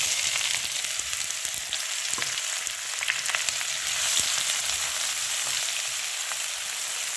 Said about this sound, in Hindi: घी गरम हो गया, अब इसमें डाल देंगे 1 टेबल स्पून ज़ीरा। और साथ में डाल देंगे 2 दरमियानी साइज के प्याज।